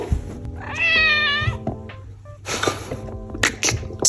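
A small cat gives one long, drawn-out meow up close, followed by shorter chirpy meows, with faint household noise behind it.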